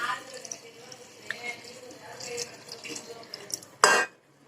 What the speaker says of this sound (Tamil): இப்போ நம்ம இதோட தேங்காய் பால் ஆட் பண்ண போகிறோம்.